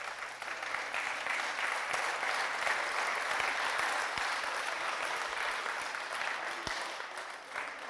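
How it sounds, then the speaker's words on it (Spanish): A church congregation breaks into sustained applause, a dense wash of clapping that holds steady for several seconds before easing slightly toward the end. "Den un aplauso al Señor por eso"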